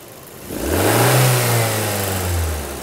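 A car engine revs as the throttle is opened, the pitch climbing and holding as a close, steady rising drone, then easing slightly toward the end.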